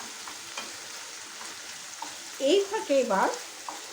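Chicken is sautéed and stirred in oil in a kadai, a soft continuous frying hiss under someone speaking briefly near the end.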